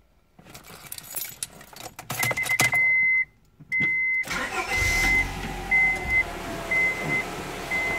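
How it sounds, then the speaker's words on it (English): A Honda Prelude with an H22A4 engine: keys jingle and a warning chime beeps several times, then the engine cranks, catches and settles into a steady, close idle. "I'm gonna start the car here"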